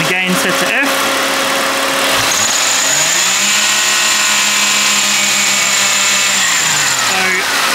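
A V6 Ecotec engine fitted with a fake rev limiter revs up and holds a steady high-RPM whine for several seconds, close and loud, before dropping back down, with speech briefly at the start.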